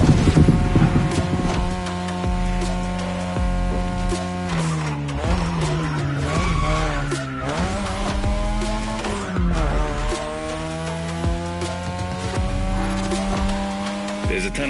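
A 2002 third-generation Mazda RX-7 with a rotary engine racing in The Crew Motorfest, loud sustained engine drone that rises and falls through the gears while the tires squeal and skid through corners.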